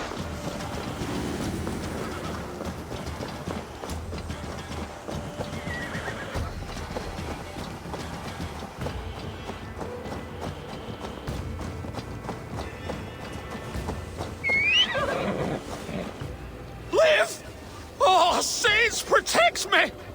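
A horse in the Assassin's Creed Valhalla video game neighs and clops its hooves, the whinny and hoofbeats rising loud near the end over game music and a voice talking throughout.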